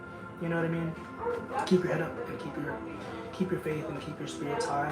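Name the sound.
dogs barking next door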